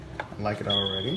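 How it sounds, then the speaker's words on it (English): A smoke detector emits a thin high chirp signalling a low battery, a single steady tone sustained briefly under someone talking during an unboxing. "that's the sound of a low battery on a smoke detector"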